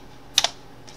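Two quick, sharp clicks from a computer keyboard as a command is typed into AutoCAD. They are close and isolated against a quiet background.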